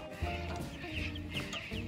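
Free-range chickens on pasture cluck in a steady, fairly faint chorus of short calls, with a low continuous hum beneath them.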